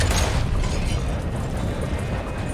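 A dynamite explosion in Red Dead Redemption 2 erupts as one heavy, deep boom that rumbles on and slowly fades, loud and close with no talk over it.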